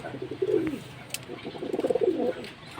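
Pigeons in a loft coo softly in low throaty rolling phrases, close by with a faint background hum and no speech.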